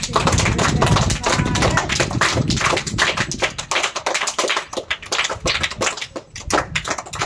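Dense, loud applause from a crowd at Zilla Parishad school Kata No. 2, clapping for a donated water tank given as a birthday gift; the rapid claps run continuously and thin out slightly toward the end.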